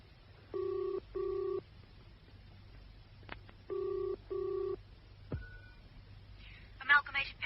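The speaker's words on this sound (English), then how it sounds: "Now, you make that phone call" A telephone number is dialed in a classic radio crime drama, heard as clear paired touch-tone beeps in two short bursts, followed by a brief ring and faint background murmur, with no talk over it.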